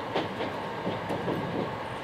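Inaho limited express cars running on the Shinetsu Line as a rapid service from Niigata to Kashiwazaki, a steady rolling rumble with soft rhythmic wheel clatter, heard continuously and moderately loud.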